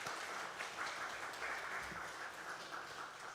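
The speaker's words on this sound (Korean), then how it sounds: "박수로 환영하겠습니다." A church congregation applauds to welcome a guest, a soft, continuous wash of clapping heard from a distance throughout.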